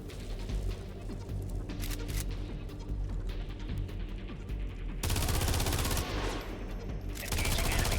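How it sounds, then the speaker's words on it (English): Full burst weapon fire from the mech game USC: Counterforce, a dense continuous barrage of rapid gunshots that grows louder and harsher in the second half, with no talking. "Now use the full burst attack mode for bonus close-up damage."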